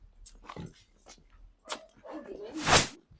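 A dog makes a few short, soft vocal sounds, small whimpers and a yip, ending with a louder burst near the end.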